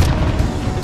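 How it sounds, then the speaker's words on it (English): Grenade blast in Call of Duty Warzone: a single loud, close, low booming burst filling the whole short moment, with no voices. "Grenade out!"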